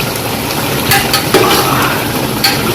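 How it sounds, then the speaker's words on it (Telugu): Crab fries in hot oil with a steady, loud sizzle, while a utensil stirs and scrapes the pan in a few sharp clinks, close up and with no talking. "బ్రహ్మాండమైన క్రాబ్ ఫ్రై."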